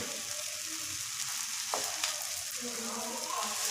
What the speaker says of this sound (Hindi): तवे पे मैं रोटी डाल दूँगी